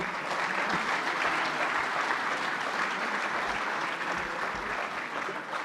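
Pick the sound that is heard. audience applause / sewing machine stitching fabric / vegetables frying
audience applause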